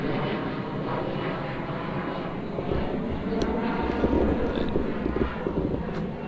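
A propeller airplane drones overhead, a steady broad rumble that swells slightly midway, with light wind buffeting the microphone.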